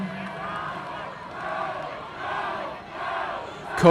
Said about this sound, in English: And the Bosco Iron Maniacs cheering as well.